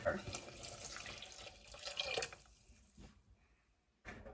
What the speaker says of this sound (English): I wanna add some more water